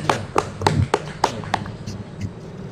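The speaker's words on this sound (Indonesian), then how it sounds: "Kita kasih aplaus untuk kelompok" A small classroom group claps for group 2, about six sharp, evenly spaced claps that fade into softer scattered taps with faint room noise.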